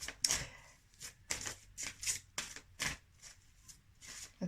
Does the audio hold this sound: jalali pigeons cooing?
no